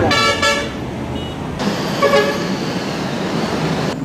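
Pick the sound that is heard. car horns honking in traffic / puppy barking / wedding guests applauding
car horns honking in traffic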